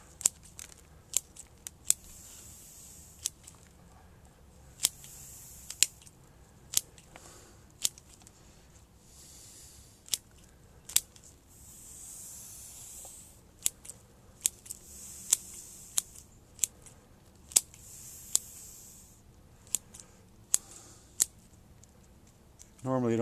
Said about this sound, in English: grab my scissors